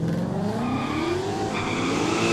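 A Mustang and a VH Commodore drag race down a no-prep strip at a street event, engines roaring loud and steady as they accelerate together, with a rising pitch and a faint tire squeal.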